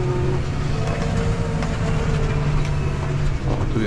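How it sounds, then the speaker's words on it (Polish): A train rolls past with a continuous dense rumble and rattle of wagons, steady and fairly loud throughout. "jest fajna kolejinka."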